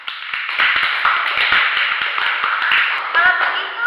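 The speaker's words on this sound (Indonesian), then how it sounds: "kita tepuk tangan dulu untuk kita" A small group claps together during a nursing group activity therapy session, a dense run of hand claps lasting several seconds with voices talking over it.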